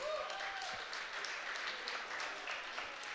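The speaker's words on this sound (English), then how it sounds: "give a nice round of applause to Coach Eric Wilson" Faint, steady applause from a crowd at a basketball coaches' show at a bar and grill, heard at a distance as a continuous wash of clapping.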